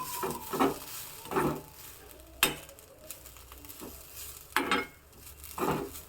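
Drumstick flowers sautéing in a pan, with bursts of scraping stirring strokes over a soft, steady sizzle, close and without talk.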